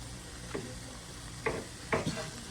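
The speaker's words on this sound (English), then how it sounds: "to the meat, I'm going to add in a can of refried beans" Canned refried beans going into sizzling meat in a pan: a steady sizzle with three short scraping, plopping bursts as the thick beans are worked out in chunks.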